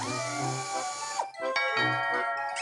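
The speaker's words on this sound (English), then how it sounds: "We should have a door chime on that door" A door chime in a cartoon setting sounds as a few bright, ringing tones with sustained harmonic overtones, layered over light music and soft effects, with no talking.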